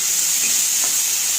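Okra stirred in a hot pan with turmeric, a steady close sizzle of frying with a faint scrape of stirring partway through, no voices.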